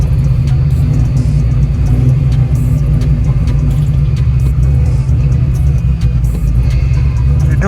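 Deep, steady engine rumble from a 1991 Chevrolet Blazer fitted with a new 500 hp motor as it drives, heard close up, loud and continuous with slight surges in revs and no talking.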